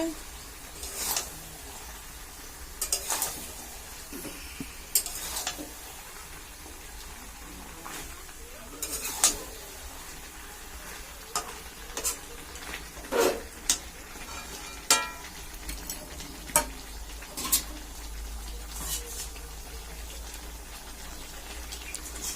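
Chicken meat and fried potatoes are stirred and sautéed in a pan, with a soft steady sizzle and scattered sharp clicks and scrapes of a spatula against the pan throughout.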